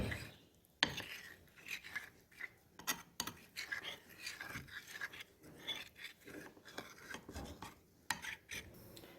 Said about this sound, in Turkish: Karıştıra karıştıra suyumu dahil ediyorum